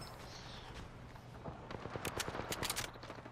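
Rapid gunfire from the battle-royale shooter Apex Legends, several quick bursts of shots in the later half over a low background hum, fairly close and moderately loud.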